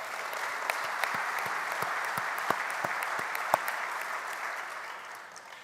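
Audience applause at a Washington Commanders headquarters gathering: a steady wash of clapping from a sizable crowd, with a few sharp individual claps standing out before it fades slightly at the end.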